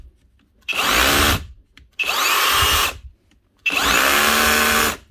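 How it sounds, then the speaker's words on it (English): Three bursts of an Erbauer cordless SDS drill with a brushless motor and a worn, loose chuck, each running about a second at steady high speed, close and loud, separated by short pauses. "Drill's working."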